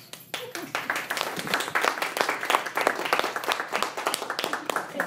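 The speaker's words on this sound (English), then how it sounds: "I want you to give yourself a big round of applause" A small group at a New Year's tea party gathering claps for themselves, with distinct individual hand claps rising quickly into a brisk, moderately loud patter that keeps going throughout.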